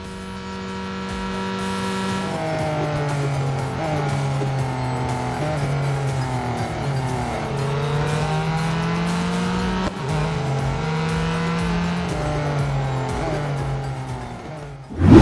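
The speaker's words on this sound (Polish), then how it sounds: "a w uszach dudni ryk silnika" Racing cars in mobile racing video games roar loudly and continuously, the engine note rising and dropping through gear shifts as it revs up and accelerates.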